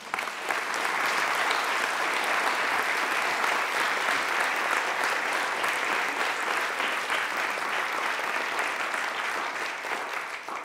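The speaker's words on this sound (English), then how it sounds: "so please give them a round of applause" Lecture hall audience at the Radcliffe Institute breaks into sustained applause, a thick, even roar of many hands clapping at steady loudness for the whole stretch, with no talking over it.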